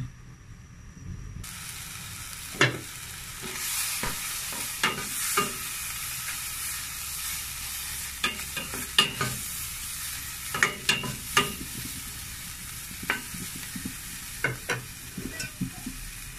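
Onion and ginger sauté in hot oil in a pan, a continuous close sizzle broken by repeated scraping stirs and light utensil knocks spread irregularly across the stretch, with no speech.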